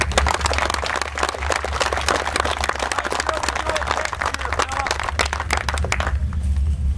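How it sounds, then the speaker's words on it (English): An audience at a Big Block Ford Bash car show event gives a loud, dense round of clapping that holds steady for about six seconds, then drops away quickly into a quieter background rumble. "both these guys deserve a big round of applause for helping us out"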